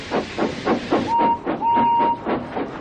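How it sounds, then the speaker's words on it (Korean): Steam locomotive slowly pulling into a station platform, with rhythmic chuffing bursts about every quarter second and a steady whistle-like tone sounding twice over the puffing. "토마스는 보글보글 물이 끓는 걸 느끼면서 헨리가 천천히 들어오는 걸 지켜보고 있었어요"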